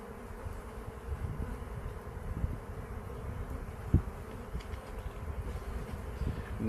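Worker honey bees buzz steadily at a colony, a dense continuous drone of many insects close by with a low hum underneath and one brief thump partway through.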